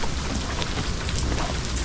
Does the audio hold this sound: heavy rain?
yes